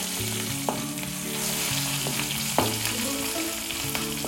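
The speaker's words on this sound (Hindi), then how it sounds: "इसको हल्का सा सौते कर लेंगे" Garlic and chilies sizzle steadily in a hot pan with occasional stirring clicks and scrapes, close and continuous, no voices.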